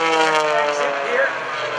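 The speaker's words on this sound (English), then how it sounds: "Going back up onto the vertical, rolling the airplane, got it stick hard over to the right, throw some rudder and elevator in it." An aerobatic propeller airplane rolls and climbs vertically at the Greenwood Lake airshow, its engine droning loud and steady with a shifting pitch, close by.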